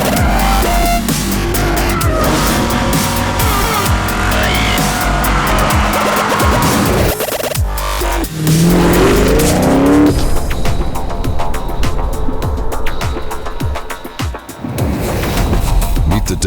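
A Dodge Viper V10 engine pushed to redline on a dyno in a high-horsepower test cell, roaring loud and continuous throughout with sharp revving peaks and tire-like squeals, fully sound-designed with no talk.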